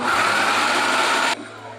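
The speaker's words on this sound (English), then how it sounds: "Once you've got everything in your blender, we're going to go ahead and cap this, and we're just going to blend this" A blender whirring loudly at steady full speed while chopping herbs, then cutting out abruptly and leaving a lower fading hum.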